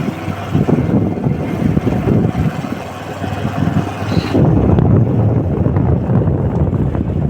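Steady, loud wind roars across the microphone while riding a motorbike on a road in Himachal, a continuous rushing buffet that swells slightly partway through, with no talk.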